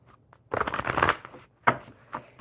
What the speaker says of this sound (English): Perfect, because we were shuffling them for you.